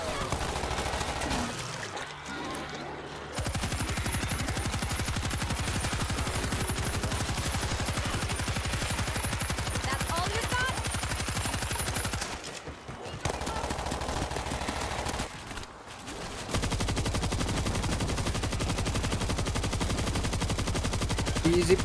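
Sustained mounted machine gun fire in the zombie shooter World War Z, a dense rapid rattle filling most of the stretch with brief pauses near three, thirteen and sixteen seconds, loud and close amid game noise.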